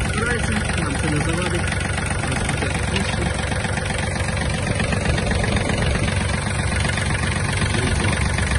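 Yanmar EF-222 Japanese mini tractor's small diesel engine idling steadily and close by, a dense continuous rumble with even knocking pulses throughout, loud and unbroken.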